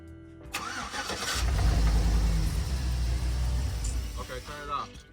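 A 2011 Ford Fiesta with electrical problems, in a repair shop, starts up and runs. The engine note swells to a loud, steady, close drone before easing off near the end, with voices faintly present.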